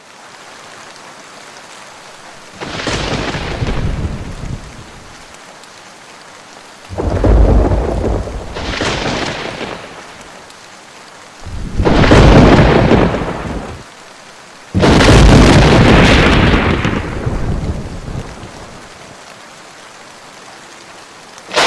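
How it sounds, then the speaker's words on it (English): Simulated thunderstorm for a flight simulator scene: four loud rolling thunder peals break out one after another over steady rain, each swelling and fading into the hiss of rainfall between, with no voices. "we are able to simulate immersive virtual thunderstorms"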